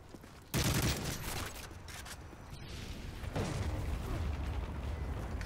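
Gunfire in a shooter video game erupts in a sudden loud burst of rapid shots, followed by continuing rattling fire and mechanical clatter over a dense background, with no speech.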